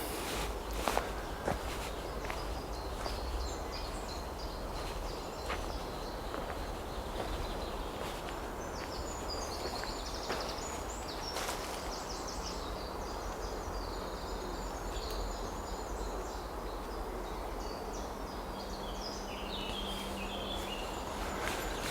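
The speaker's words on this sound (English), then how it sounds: "Hear the birds" Birds call outdoors on a quiet countryside walk, brief chirps and an owl-like hoot scattered over a steady background hiss, with footsteps crunching underfoot.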